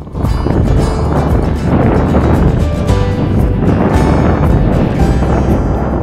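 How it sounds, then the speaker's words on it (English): A strong easterly wind blasts over the sea off Scotland's Slate Isles, loud continuous rushing and buffeting with sloshing water, steady and close for several seconds. "The wind still hadn't eased for our last day, with a final blasting from the long easterly fetch straight out of Loch Melford"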